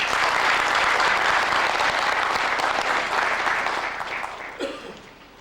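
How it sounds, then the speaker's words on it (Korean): Audience at a graduate school opening ceremony applauding to welcome a speaker, a full sustained round of clapping that gradually thins and tapers off with a small bump near the end. "최호진 박사님 뜨거운 박수로 환영해 주시기 바랍니다."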